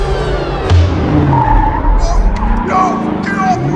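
A car skids with screeching tires in a film action scene, a loud continuous squeal over engine roar with a brief thud early on and no talk.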